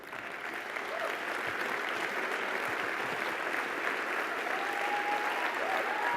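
A conference audience at the Global Grand Challenges Summit claps steadily as panelists walk onto the stage. The applause is dense and sustained, with a faint voice or two underneath.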